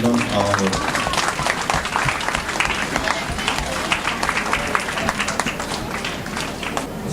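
An audience claps at an award presentation during the cultural meeting of a national Kathakali festival, a dense, sustained round of applause with crowd murmur underneath.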